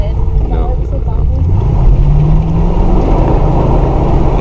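Chevrolet Camaro engine revving in short throttle bursts during street drifting, a loud close rumbling roar that rises and falls, with a voice briefly heard over it at the start.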